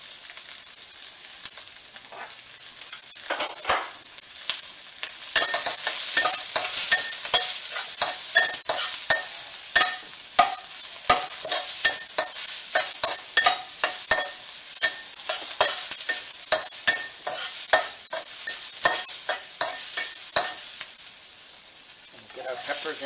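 Ginger and garlic stir-fry in a hot pan for ribs in garlic sauce, giving a loud continuous sizzle broken by repeated scraping stirs.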